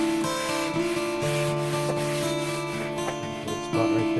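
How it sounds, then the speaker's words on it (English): Light scuffing of a painted CNC-carved wood sign, a continuous close rubbing and sanding sound with a faint tonal hum underneath. "Little light scuffing."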